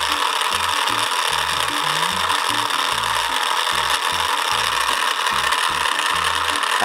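A small motor spinning a gear in a homemade free-energy device, a loud continuous clicking, ratcheting whir with irregular knocking pulses, close and steady throughout.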